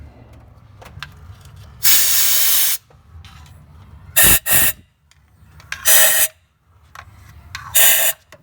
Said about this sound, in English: we're going to go ahead and blow out the spark plug tubes on the passenger side.